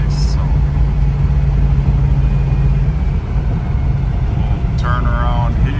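A 1971 Chevrolet Chevelle SS convertible engine rumbles steadily while driving, a low continuous drone heard under someone talking throughout.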